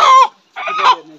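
A rooster at a carrom-themed rooster fight gives two loud, close clucking calls in quick succession, each with a tonal, slightly strained quality.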